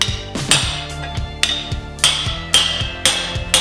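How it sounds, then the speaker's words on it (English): Hammer driving a punch through hot steel to make a rivet hole in blacksmith tongs, about seven sharp ringing metallic strikes at an uneven pace, close and loud, with no speech. "I'm gonna work the punch through a little bit. I wanna make a hole for 3/8 rivet."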